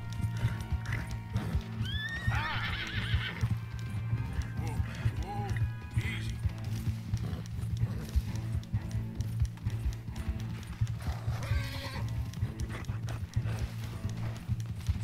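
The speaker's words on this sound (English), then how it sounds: "O meu cavalo aguenta isto e mais." Horse galloping and neighing in Red Dead Redemption 2, with steady rhythmic hoofbeats throughout and several sharp whinnies, plus a low rumble under someone talking in Portuguese.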